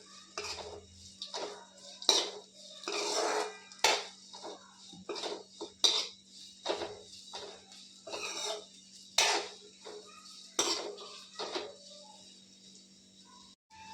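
Ingredients being sautéed in a little oil in a pan produce a steady series of clanks and scrapes from a utensil stirring against the metal, with brief pauses between strokes and a quiet background.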